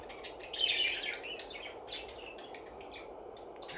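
Small pet birds chirp briefly at their feeder, a short burst of high tweets near the start followed by faint scattered calls over a soft indoor hiss.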